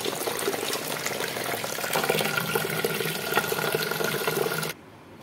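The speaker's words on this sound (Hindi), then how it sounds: "इसे अच्छे से धो लेंगे 3 से 4 पानी से" Chana dal being washed under running water: a loud, steady rush of tap water splashing into a vessel, continuous for several seconds before cutting off abruptly.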